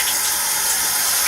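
A bathroom water tap runs full, giving a steady, close hiss of flowing water with no other sounds and no talking.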